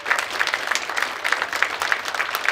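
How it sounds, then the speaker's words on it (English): A crowd applauds the finalists of a business plan competition, a steady dense patter of many hands clapping throughout at moderate level. "You guys deserve a round of applause just for that."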